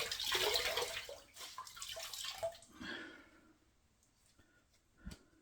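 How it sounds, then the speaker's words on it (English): A washcloth rinsed under running bathroom tap water, a strong splashing rush at first that tapers off into faint drips and a final small splash. "let me rinse out my washcloth"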